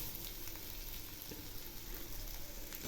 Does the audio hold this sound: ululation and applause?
no